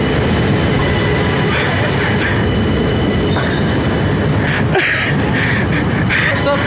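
A train rumbles steadily close by, with wheels screeching in bursts over the continuous rolling noise.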